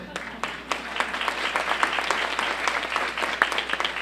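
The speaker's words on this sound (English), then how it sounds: "Congratulations, you all deserve a round of applause" Applause from a morning parent summit audience, a dense patter of many hands clapping at moderate volume with a few louder claps standing out and voices faintly mixed in.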